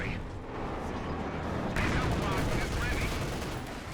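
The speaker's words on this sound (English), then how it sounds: "Light artillery barrage on the machine gun." A light artillery barrage in Company of Heroes 2, falling on a machine-gun position as a dense, continuous roar of gunfire and blasts that swells midway. A voice can be heard faintly underneath.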